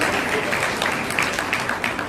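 An audience at a spoken address claps steadily, a dense, continuous burst of applause that fills the whole two seconds.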